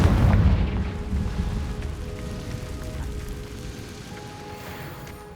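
A Confringo fire spell explodes in Hogwarts Legacy with a deep booming blast at the start, then a rumbling, crackling tail that fades gradually over several seconds, with no talking.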